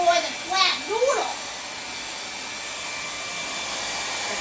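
A hair dryer blows a steady whooshing hum onto a freshly painted butterfly canvas, close and continuous, while someone talks over it briefly at the start.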